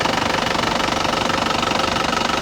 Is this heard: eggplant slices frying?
no